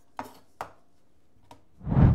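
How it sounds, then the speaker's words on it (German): A knife chopping a large potato into fine cubes on a board, three sharp, separate close cuts followed by a louder, fuller thud as the pieces are gathered. "große Kartoffel und die schneiden wir in richtig schöne, feine Würfel."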